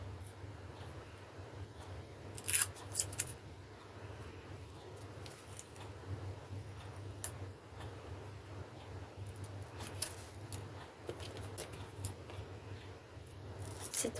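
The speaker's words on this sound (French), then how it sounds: "C'est trop grand, donc je coupe." Scissors snip paper for a Harry Potter scrapbook album page, quiet scattered cuts and rustles at close range in a hushed room, with no talk.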